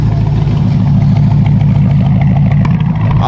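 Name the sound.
loud car engine revving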